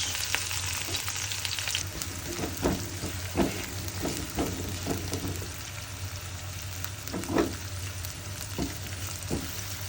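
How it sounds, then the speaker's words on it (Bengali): Sliced onion frying in oil in a wok for a Bengali mashed bhorta, a steady close sizzle with scattered stirring clatters and a low hum beneath, no talking. "কড়াইতে তেল দিয়ে দিচ্ছি পেঁয়াজ,"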